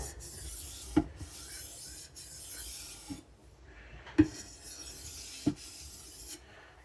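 A custom knife is being sharpened and refined to razor sharpness, with soft rasping strokes of steel on stone, close and quiet, punctuated by a few sharp clicks and taps.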